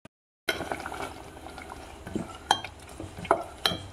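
Chopped tomatoes go into a hot pan in a prawn dish and are stirred, giving a soft sizzle with a few sharp clacks and scrapes of a utensil against the pan.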